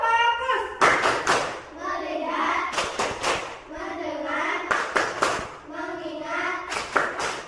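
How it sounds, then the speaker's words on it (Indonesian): Schoolchildren in a classroom clap their hands in counted rhythm, clusters of claps alternating with chanted counting by the teacher and class, voices prominent throughout. "Tepuk 1, tepuk 2, tepuk 3, tepuk 4, tepuk 5"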